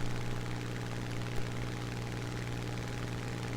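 Stock Spitfire Mk.24 in War Thunder cruising at altitude, a steady loud piston engine drone with a strong low hum running unbroken throughout, no voices.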